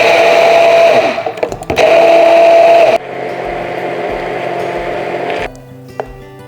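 A loud, close blender whirs through a piña colada kesari with cream of coconut, running in a few surges with short pauses and gear changes before winding down.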